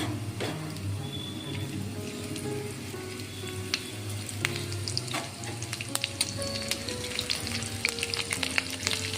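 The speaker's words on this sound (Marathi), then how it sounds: "आता थोडेसे जिरे टाकून घ्यायचे आहेत हिरवी मिरची" Cumin seeds and green chili sizzling in hot oil in a pan for a lasuni methi dish, a close, continuous frying hiss dotted with sharp crackles and pops that grow busier toward the end.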